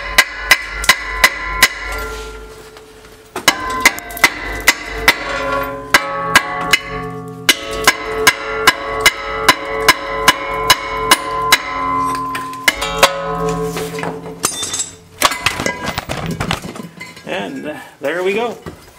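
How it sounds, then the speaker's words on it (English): A hammer strikes a rusted old brake rotor on a car again and again, giving loud metallic clanks in a fast, fairly regular rhythm that pauses briefly and then resumes. The ringing tapers off near the end. "I used a hammer to get the rest of the way."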